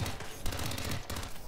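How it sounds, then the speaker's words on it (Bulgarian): Automatic weapon fire in the video game Hitman 2 sounds as dense rapid bursts, loud and close, with a short gap near the middle before the rattle resumes. "Обичам автоматичните оръжия."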